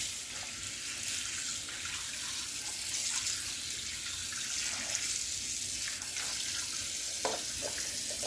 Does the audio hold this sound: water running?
yes